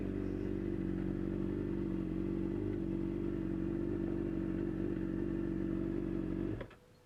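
A motorcycle engine idles nearby with a steady, loud, even rumble for most of the time, then shuts off abruptly near the end, leaving quiet. No one speaks.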